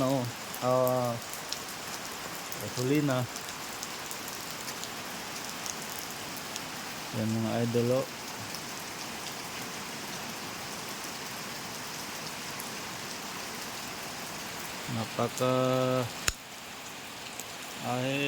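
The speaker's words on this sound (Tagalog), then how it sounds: "Hindi man yung masyadong malakas na ulan." Steady rain pours down on a surface throughout, with someone speaking briefly now and then over the hiss.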